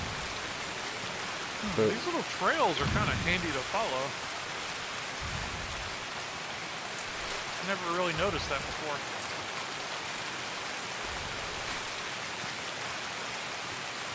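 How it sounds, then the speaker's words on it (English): Steady rain hisses throughout in the video game Escape from Tarkov, with someone talking over it for a stretch near the start and again in the middle. "I can't hear anything anyway, with the rain"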